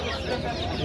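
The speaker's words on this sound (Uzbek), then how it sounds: "Bir kunlik ekan jo'jalar." Day-old chicks at a poultry market cheeping constantly in a dense, high-pitched chorus, close and steady with no break.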